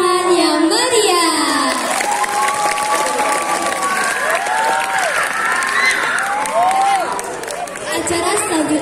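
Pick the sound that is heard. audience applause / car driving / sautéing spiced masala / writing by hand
audience applause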